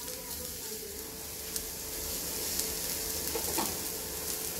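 Ridge gourd sautéing in oil with rock salt and tamarind, a steady close sizzle running throughout with a few soft stirring scrapes and knocks.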